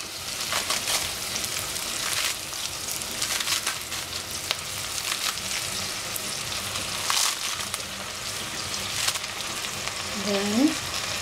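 Chinese cabbage stir-frying in a pan, a steady close sizzle with scattered clatter of stirring, a brief voice near the end.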